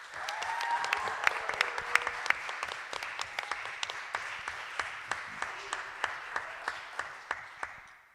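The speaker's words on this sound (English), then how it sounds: "just another round of applause for all of our readers" A live poetry reading audience claps after the readers in a sustained, even round of applause, with the room ambience constant and the individual claps sharp but moderately distant.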